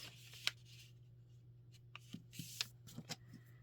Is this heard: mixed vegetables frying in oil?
no